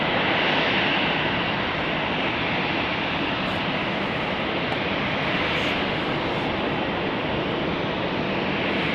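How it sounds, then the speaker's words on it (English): A NetJets Global 6500 business jet arriving on runway 35 at Salt Lake City Airport, a loud, steady, broadband jet roar that stays constant throughout with no talking. "it looks like we get a NetJets Global 6500 arriving on runway 35"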